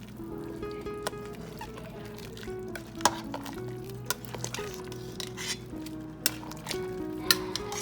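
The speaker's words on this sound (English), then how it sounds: "4 spoons of this tomato paste in here. All right, and then I'm just going to stir that in." A spoon stirring tomato paste into a pot of simmering neck bone soup, with a low steady hum under scattered clicks and knocks of the spoon against the pot, close by.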